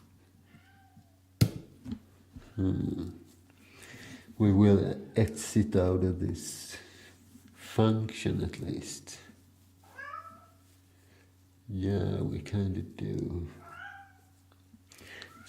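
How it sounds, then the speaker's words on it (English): A pet cat meows repeatedly in a room, several drawn-out cries scattered between and over a man's speech, close and fairly clear. "Sorry about my cat."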